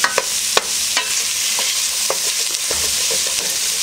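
Bacon sizzles steadily in a pan for corn chowder, with scattered scraping and clicking as it is stirred with a utensil.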